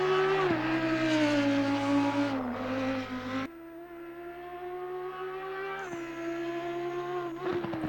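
Simulated engine of an Audi R8 EVO GT3 race car lapping Kyalami in Assetto Corsa Competizione, a loud continuous high-revving drone with sharp pitch drops at each gear change and downshifts into corners, no voices.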